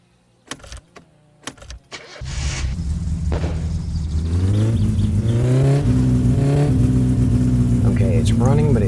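A few sharp clunks and bangs, then a poorly tuned carburetted car engine in My Summer Car catches and runs rough, its loud uneven idle climbing in pitch as it revs and backfires.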